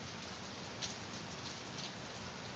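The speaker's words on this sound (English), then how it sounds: "So you can hear the rain now though" Steady rain falling outside, a continuous even patter that holds at a constant level throughout with no other sounds over it.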